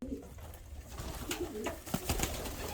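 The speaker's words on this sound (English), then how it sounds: "All the little young birds, just relaxing." Young pigeons in a loft give soft, repeated coos and low burbling calls, fairly close, with brief rustles and wing flutters among them and no talk over them.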